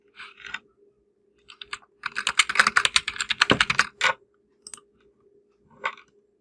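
Keys clatter on a computer keyboard as an ID number is typed, in short bursts: a few isolated taps, then a fast run of keystrokes, then scattered single presses, close and fairly quiet with no talking.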